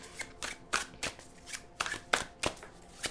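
Tarot cards being shuffled by hand, a series of crisp riffling bursts about every half second, close and fairly quiet with no talking.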